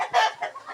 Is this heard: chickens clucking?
yes